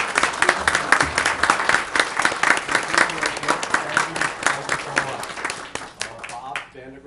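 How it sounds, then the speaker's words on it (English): Audience applause at a Bonita Springs city council meeting, a dense burst of many hands clapping that holds steady for several seconds before thinning out, with a voice murmuring beneath it. "If we could please give him a round of applause."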